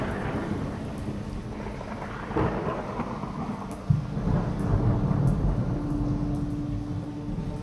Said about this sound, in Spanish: La lluvia empezó a caer.